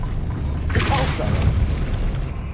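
Depulso spell cast in Hogwarts Legacy, a short whooshing magical burst with a low thump, fairly close and loud over game ambience.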